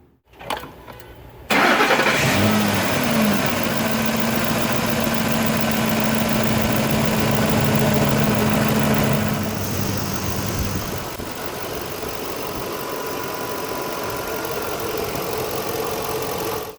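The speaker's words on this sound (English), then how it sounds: "go ahead and start the truck up. Let's see how it runs" A Ford 5.4 truck engine cranks briefly, then catches and settles into a steady, close idle with a faint ticking undertone, the level dropping slightly partway through as it smooths out.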